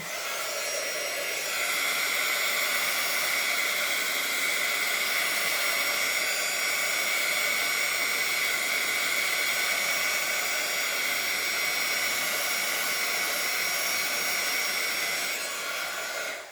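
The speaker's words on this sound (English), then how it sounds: "now I'm going to bring in my heat gun and I'm going to just dry this a little bit" A heat gun blowing steadily to dry stamped ink on a card, a loud continuous hiss and whir that runs unbroken for the whole stretch, close by and with no talking.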